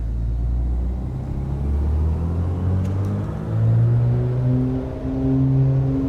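Twin-engine Beechcraft Baron in a flight simulator game, engine drone steadily building in pitch and loudness through its takeoff roll, a continuous loud rumble with no talk over it.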